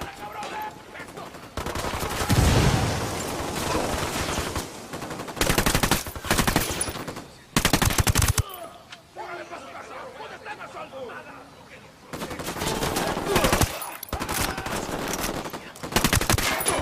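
Gunfire in the Ghost Recon Wildlands video game: loud bursts of automatic rifle fire come in several long volleys separated by quieter gaps, with voices talking in between.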